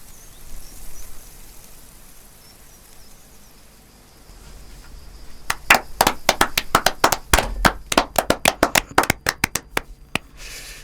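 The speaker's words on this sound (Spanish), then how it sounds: "Claro, este aplauso es un aplauso medio torpe" Scattered, uneven audience applause after a storytelling performance, starting hesitantly and building into a loose patter of individual claps that fades out, following a quiet stretch.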